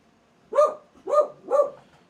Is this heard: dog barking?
yes